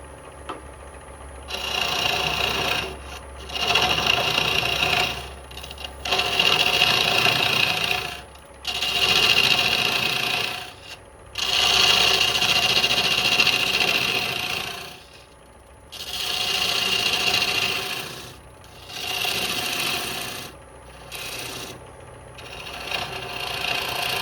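A dovetail scraper cuts a natural edge wooden cup spinning on a lathe, giving repeated bursts of harsh, close scraping and shaving a few seconds each, separated by short pauses where the tool lifts off.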